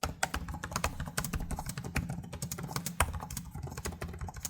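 Keys on a Samsung Galaxy Book 5 (2025) laptop click in rapid, continuous typing, crisp and close, with no talking over the steady clatter.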